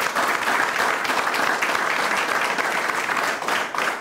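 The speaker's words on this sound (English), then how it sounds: "we need to give a big round of applause to these amazing students standing behind me." A crowd at a ribbon-cutting ceremony gives students a big round of applause, loud dense clapping sustained throughout without a break.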